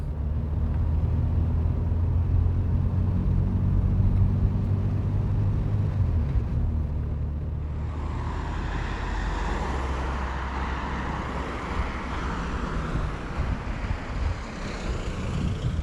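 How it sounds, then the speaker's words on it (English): A car drives along a road through the Caucasian Mountains, its engine and road noise a steady low rumble that stays loud and close throughout, with wind and tyre hiss rising partway through. "We are driving through the Caucasian Mountains"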